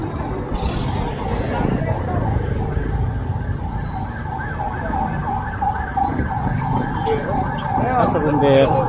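A fire truck siren wails steadily at moderate distance through street noise, with people talking over it in Filipino in an outdoor neighborhood setting.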